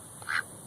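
A duck on a deck lets out a single short quack, moderately loud and close, against a quiet background.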